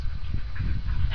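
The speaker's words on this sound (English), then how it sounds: "Ah, Faya's got her voice pitch up" A dog gives a brief, high-pitched whine, a short nasal whimpering sound heard close by over a low background rumble.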